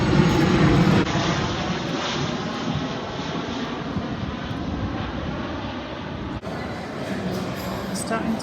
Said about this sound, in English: I like watching the planes.